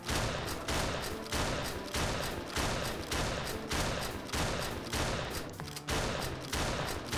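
Rapid, steady shotgun blasts fire at targets in a virtual arcade shooting game, a loud, regular volley of booming reports with no talk over them.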